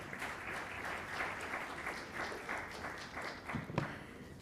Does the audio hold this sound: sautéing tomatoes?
no